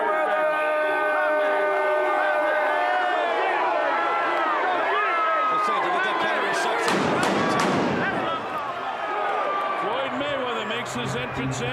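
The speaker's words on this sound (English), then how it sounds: "Those are not shots going off. They're fireworks." Fireworks go off at a boxing arena entrance as a fighter walks in, sharp bangs cutting through loud entrance music and a roaring crowd, with a brief flurry of pops after.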